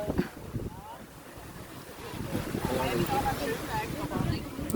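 Sea breeze on sunny, crowded Jomtien beach in Thailand buffets the microphone in uneven, rumbling gusts, with a voice talking intermittently over it.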